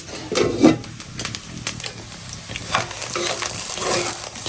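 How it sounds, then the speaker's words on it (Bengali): Leftover khichuri is reheated and stirred in a pan, with close scraping and clinking strokes over a soft steady sizzle, a little louder at first and then continuing with no talking. "খিচুড়ি সেটাই গরম দিচ্ছি।"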